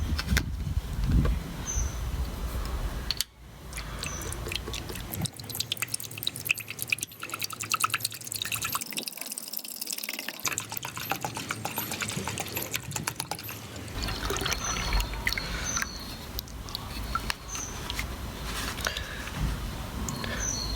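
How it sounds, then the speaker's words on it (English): Milk poured into a saucepan, about a litre: a steady liquid trickle and dribble with light dripping, continuous and fairly close, briefly dipping quieter partway through. "We'll begin by adding the milk into the saucepan."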